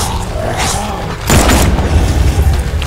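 Gunfire in the video game Batman: Arkham Knight, a loud booming shot bursting out partway through and ringing on over dense, noisy game sound.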